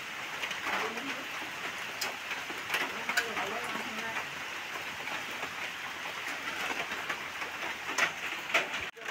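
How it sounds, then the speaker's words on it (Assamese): Heavy, unbroken rain falls steadily around a flooded home beside fields, a dense even wash of sound throughout, with a voice speaking over it at times. "যিহেতু বৰষুণ নেৰানেপেৰাকৈ দিয়ে আছে ৰাতি ধৰি এৰা নাই বৰষুণ"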